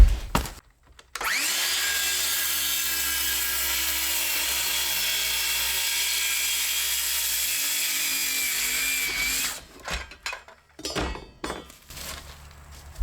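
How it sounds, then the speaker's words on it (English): A power saw cuts through the rotten end of a wooden floor joist in an old mobile home, a loud sustained whine lasting several seconds, followed by scattered knocks and handling clatter. "the end of this joist is all rotten. So I'm going to go ahead and cut that off quick."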